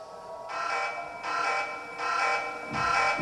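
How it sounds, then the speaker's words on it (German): Alarm in the Minecraft Story Mode video game: four evenly spaced, loud, horn-like tones pulsing roughly every three-quarters of a second, with no talk. "Oh, Alarm."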